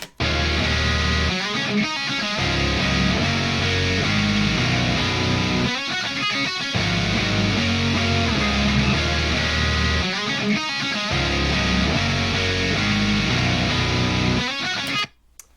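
Distorted bass and electric guitar play a heavy riff in unison, loud and steady, with brief rhythmic breaks between repeated phrases.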